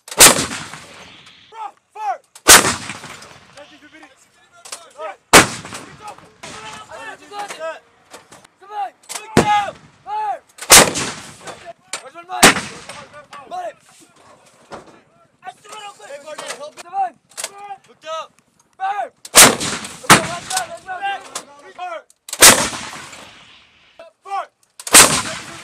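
Military artillery and gunfire boom out in a long series of loud, sharp blasts, each followed by a rolling echo, spaced irregularly with bursts of crackling between and voices heard at times.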